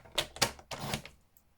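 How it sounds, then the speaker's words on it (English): A paper trimmer with a freshly replaced blade slicing through card, giving a few quiet, quick cutting and sliding sounds close by, with short bursts separated by brief pauses. "I've just replaced the blade in my trimmer. It's now trimming very, very nicely."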